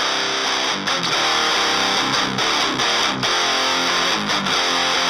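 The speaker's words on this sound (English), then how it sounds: "after both amps, we're using Decapitator for saturation and distortion" Heavily distorted electric guitar pushed through an amp and then Decapitator saturation, chugging in a steady driving riff with drums, loud and dense throughout.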